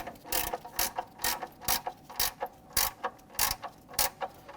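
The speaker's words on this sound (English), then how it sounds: "Get that started, and we're using our gear wrench." A gear wrench ratchets a heat shield bolt near the control arm tower of a 2005-2021 Nissan Frontier, a steady series of about a dozen rapid metallic clicking strokes, close and clear with no talking.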